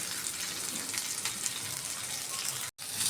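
Pomfret fish frying on a flat tawa on its second side, a steady dense sizzle and crackle of hot oil close up, continuous throughout with one brief cut near the end.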